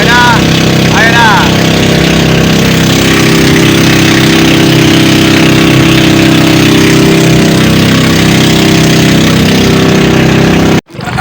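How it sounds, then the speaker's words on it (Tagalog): A steady, loud boat engine drones continuously with a low rumble, running without pause until it cuts out abruptly at the end, on an island-hopping trip in Zambales. "Tumutodo na yung makina ng bangka."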